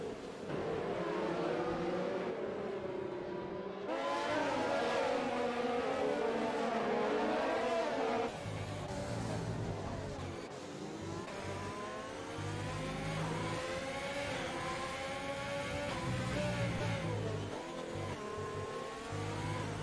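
Race cars in a racing video game battle closely, engines revving and whining through shifting pitches with occasional tire squeals, a dense continuous roar of several cars together.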